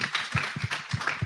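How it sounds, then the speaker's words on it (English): Light, scattered clapping with a few distinct claps in a loose rhythm, fairly faint, like a small audience applauding briefly. "And I think that deserves a round of applause."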